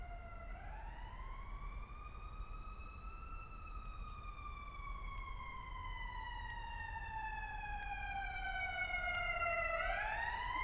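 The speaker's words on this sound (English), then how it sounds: "I'll wait for the ambulance to go by." An ambulance siren wails past at a distance, its tone sweeping slowly up and down across long cycles, faint and steady against a quiet background.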